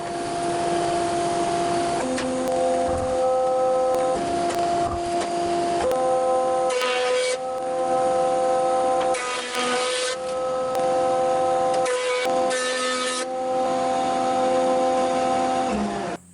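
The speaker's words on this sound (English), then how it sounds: "Then I changed the machine to thicknessing setup and brought the plank to the final thickness." Wood plank fed through a thicknessing machine for a wooden play button, a loud, steady motor drone with harsh planing roars as the plank passes, repeated several times, no voices.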